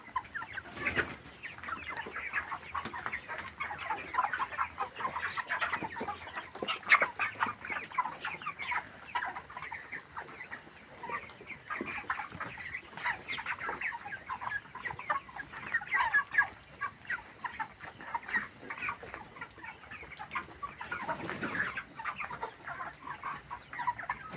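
Many broiler chickens cluck and chatter together in a crowded poultry house, a constant busy murmur of clucks at moderate distance.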